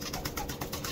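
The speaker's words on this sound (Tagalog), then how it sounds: "Laking ibon, oh." Pigeons at a racing pigeon loft, a soft steady bird murmur with faint repeated pulses running through the whole short stretch, fairly close and continuous.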